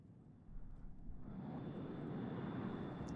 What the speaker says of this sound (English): Bomber coming in.